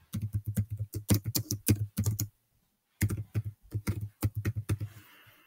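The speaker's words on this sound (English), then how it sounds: "I can type my response." Fingers type in rapid bursts of light clicks on a computer keyboard, close and clear, with a short pause in the middle before the tapping resumes.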